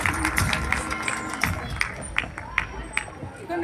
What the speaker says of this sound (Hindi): आंटी के लिए जोरदार तालियां।